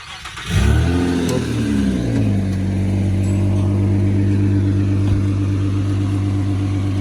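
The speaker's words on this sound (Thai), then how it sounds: "เครื่องสวยๆนิ่งๆ นะครับ" Nissan Cefiro A33 car engine starting and settling into a smooth, steady idle, close and loud, with a low even hum and no talk.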